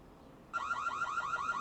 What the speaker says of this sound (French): Après vous avez la fonction alarme.